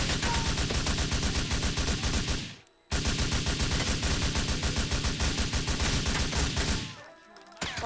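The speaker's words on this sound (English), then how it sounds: "Wow, he shot like while he was dying." Gunfire in GTA 4 during a museum robbery, with dense, loud, continuous automatic fire close by that breaks off briefly once, resumes, and then fades near the end.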